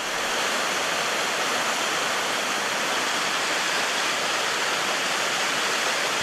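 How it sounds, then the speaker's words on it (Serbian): Swollen rivers in Serbia's Batočka river basin burst their banks, flooding yards and houses; a constant, dense roar of rushing water fills the scene with no voices. "Nabujali rečni tokovi izlili su se iz svojih korita, poplavivši imanja, dvorišta i kuće."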